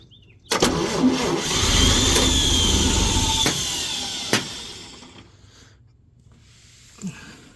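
The engine of a 1954 Chevy Bel Air, still being revived, cranks and then catches. It runs loudly for several seconds, dies away, and a final brief crank is heard at the end.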